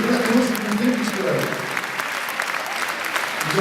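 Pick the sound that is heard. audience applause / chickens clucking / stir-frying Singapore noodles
audience applause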